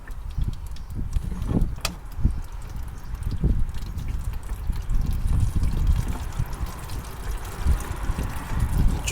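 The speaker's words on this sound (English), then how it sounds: "I'm going to get my catch pan underneath it and start catching the coolant" Engine coolant drains from a car into a catch pan in a continuous, uneven trickle and splash, close by, with occasional small knocks and drips mixed in and no talking.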